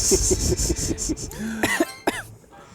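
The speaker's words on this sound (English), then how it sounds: "I'm trying not to cough." A few quick coughs, the first burst of short rhythmic hacks followed by a couple of rougher, louder coughs, close up.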